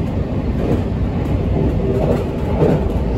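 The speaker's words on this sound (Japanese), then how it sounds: "今乗っている新快速は 53分で豊橋に着きます。" Steady rumble and rolling clatter of a JR Central Shinkaisoku rapid train on the Tokaido Line between Nagoya and Toyohashi, heard from inside the carriage as a continuous, loud, even drone.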